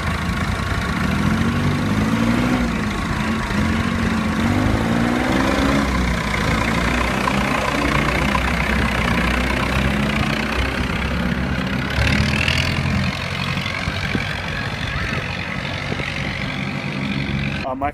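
Tractor engines idling together at a high school Tractor Day in an agricultural community, a steady low diesel throb with a faint passing whine partway through, while a person talks over it.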